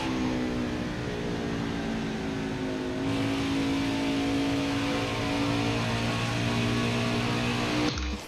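A NASCAR race car engine in the NASCAR Heat 5 video game holds a steady, loud, high drone, shifting pitch partway through as the car rolls through a corner. The sound cuts off abruptly near the end, with no voices over it.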